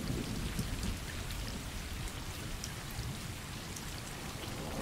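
Steady rain pours in the Stray video game, broad hissing downpour with low rumbling thunder rolling continuously underneath at an even, fairly loud level throughout.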